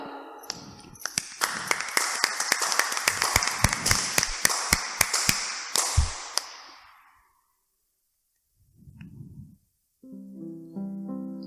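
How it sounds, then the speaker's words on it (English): A congregation at a charismatic prayer meeting claps in a quick, loud run of sharp claps for about six seconds. After a pause come a brief low murmur and then a few soft sustained tones. "let us put our hearts together and clap for the Lord"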